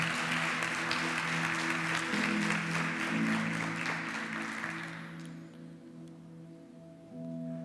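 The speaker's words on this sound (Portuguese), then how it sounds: "Dá um aplauso a Ele aí de todo o seu coração." A church congregation gives hearty applause during a sermon, strong at first and then fading out after about five seconds, while sustained keyboard tones carry on underneath.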